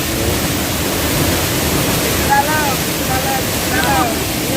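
Steady broadband rush of a waterfall in Pagaralam fills the clip, continuous and fairly loud, with faint voices of people nearby swimming and chattering over it.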